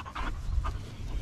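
A dog pants close by in quick, breathy bursts over a low rumbling background.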